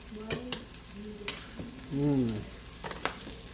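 Ramen noodles with shrimp and vegetables being stir-fried, soft sizzling under scattered clinks and scrapes of a utensil mixing in the pan, with a short tonal hum midway.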